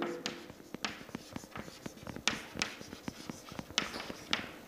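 A pen scratches and taps across paper in quick, uneven strokes while a truth table is written out, close and dry with no voices.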